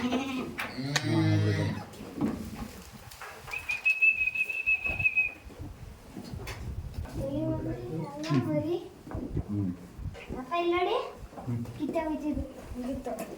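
Young goat kids bleat in short, wavering cries on a farm. The bleats come at the start and again near the end, mixed in with lively nearby talking.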